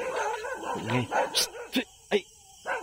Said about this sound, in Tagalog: ang daming aso, mga aso namin yan